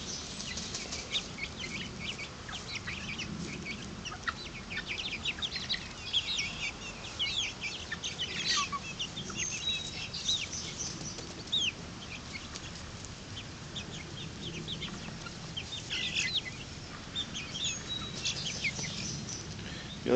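Chickens taking a dust bath outdoors make soft clucks, rustling and brief wing flutters, faint and scattered over twenty seconds with no talking.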